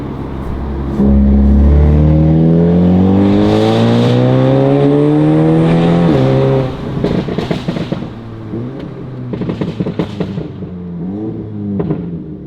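A 2019 Audi S3's aftermarket exhaust roars as the engine revs in dynamic mode up through a long rising pull, then settles into a lumpy, crackling idle, close and loud.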